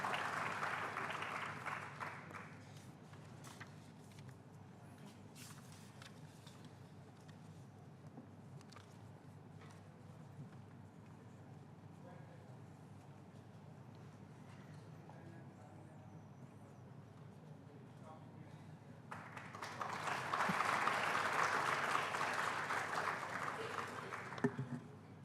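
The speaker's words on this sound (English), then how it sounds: "Please join me in welcoming him with a warm round of applause" An audience at an HR conclave at VGSoM, IIT Kharagpur breaks into applause welcoming a speaker, a dense burst of clapping at the start, then quieter room noise, then a second, louder round of clapping near the end.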